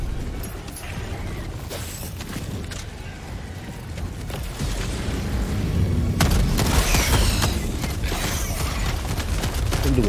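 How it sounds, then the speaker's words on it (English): C4 explosives detonate in an online shooter video game, with heavy, rumbling booms and dense crackling blasts that swell and stay loud through the clip. "I got some C4 artillery on this motherfucker, man."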